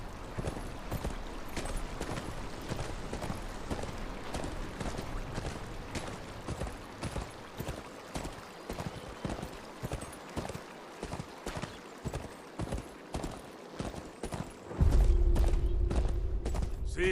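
Steady clip-clop of horse hooves at a walking pace in the video game Game of Thrones: Kingsroad, many evenly spaced clops, with a louder swell of ambient sound near the end.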